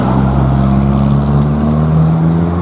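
Car pulling away uphill from a cars and coffee meet near Morwellham Quay, a steady loud engine drone holding throughout, close by and alone.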